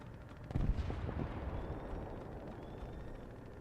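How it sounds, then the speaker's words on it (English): An artillery shell lands in a video game, a single deep, rumbling boom that swells quickly and then fades slowly into distant battle noise. "Got an artillery hit."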